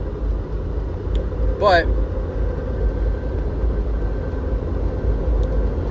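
A 1998 Jeep Grand Cherokee ZJ 5.9 Limited cruising at 65 mph, with a steady, loud engine and road rumble inside the cabin and a brief spoken word over it.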